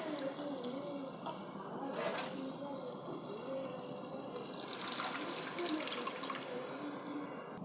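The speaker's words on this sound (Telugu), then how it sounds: "మనం ముందుగా నానబెట్టుకున్న చింతపండు పులుసు చింతపండు పులుసు అయితే ఇప్పుడు ఇందులోకి పోయాలి" Soaked tamarind juice poured into a pan of fried fish for a tamarind fish curry, a faint, continuous watery trickle and splash running steadily throughout.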